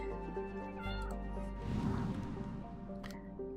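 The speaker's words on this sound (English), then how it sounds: "And my cat has decided to make an appearance." A pet cat meows a few times, faint and close by, over a steady bed of background music and game sounds.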